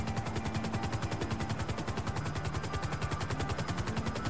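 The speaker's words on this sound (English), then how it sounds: "That's the helicopter, it's about time." Helicopter in a racing video game, a loud, fast rhythmic rotor chop pulsing evenly and continuously at close range without a break.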